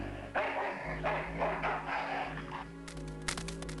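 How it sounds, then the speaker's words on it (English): A junkyard dog in the adventure game Full Throttle barks in a string of repeated woofs, fairly close and alone over a low background hum. "Oh, there's the dog"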